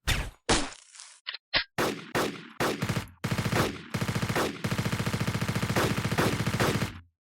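Bursts of automatic gunfire from an ambush on security officers behind a door in the film White House Down, starting as separate loud volleys and then a long continuous rattle before cutting off.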